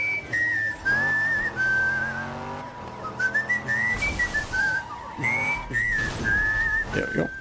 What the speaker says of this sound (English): I found this guy that knows how to whistle in a really weird way